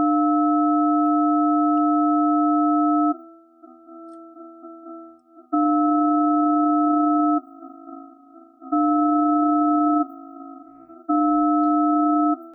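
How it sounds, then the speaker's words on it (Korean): A steady 300 Hz sine test tone, used in a ring modulation sound design demonstration, sounds in three clean, loud bursts separated by short gaps filled with a fainter, wavering processed tone, with no talking. "다시 사인파를 재생해 볼게요."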